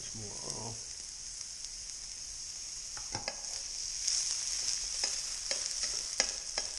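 Pheasant seasoned with sage breakfast spice frying in oil, a steady hiss that grows slightly louder, with several sharp spatula clacks and stirring sounds; a brief voice is heard at the start.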